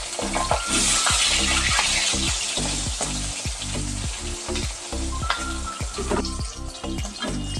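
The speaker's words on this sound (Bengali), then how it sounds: "কাতলা মাছ এক পাশ ভাজা হয়ে গেছে, আর এক পাশ আমি উল্টে দিচ্ছি" Pieces of katla fish fry loudly in a hot pan, a steady close sizzle broken by regular clanks and scrapes of a spatula as the fish is turned.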